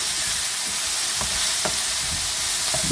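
Mixed vegetables including carrots cooking in a pan, a loud dense sizzle running throughout, with a few light scrapes of a spatula stirring.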